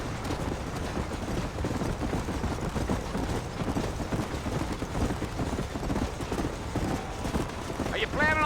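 A horse gallops in the Western video game Red Dead Redemption, its hooves pounding in a steady, fast rhythm throughout, with a brief whinny near the end and voices speaking over it.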